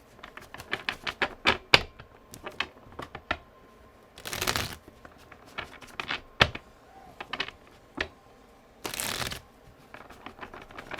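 Tarot cards are riffled and tapped in quick crisp bursts, with two longer rushing shuffles standing out among the clicks, close up and moderately loud.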